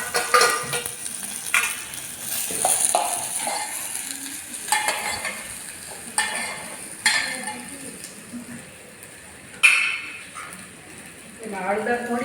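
Cabbage with chillies stirred and frying in a pan, giving a steady sizzle with repeated scraping and clinking strokes of a spoon against the metal, close and moderately loud throughout.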